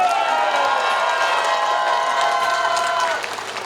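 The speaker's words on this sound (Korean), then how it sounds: "박지원 선배님께 큰 박수 좀 부탁드리겠습니다." An audience at a political gathering in Jeju breaks into loud applause mixed with cheering and crowd noise, a dense, sustained roar that holds steady and then eases slightly near the end.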